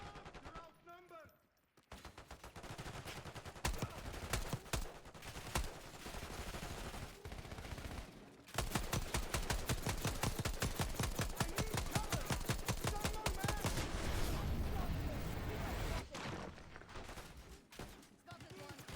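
Call of Duty Black Ops 6 campaign gunfire: sustained rapid automatic bursts and rattling volleys, loud and dense, nearly continuous for most of the stretch with short gaps, while voices talk intermittently.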